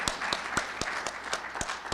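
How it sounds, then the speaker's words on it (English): An audience claps in a round of applause for Carolyn at a Rotary District 5950 gathering, individual claps distinct and fairly close, steady and moderately loud through the whole stretch. "Let's give her another round of applause"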